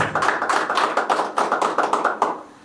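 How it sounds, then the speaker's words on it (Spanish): A small audience at a Friday bohemian music evening claps for the cameraman in a quick, even rhythm of sharp hand claps that fades out at the end. "Otro aplauso para Alex, otro aplauso para Alex"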